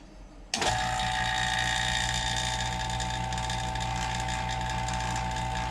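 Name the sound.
vacuum tester running on 2012 Hemi engine valve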